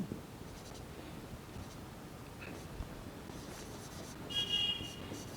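Chalk or marker scratches across a classroom board during a Class 10 maths lesson on triangles, heard as faint, scattered strokes under steady room noise, with a brief higher squeak near the end.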